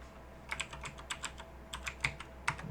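Computer keyboard typing a folder name: a short run of quick, light key clicks in two bursts, close and fairly quiet, with no talking.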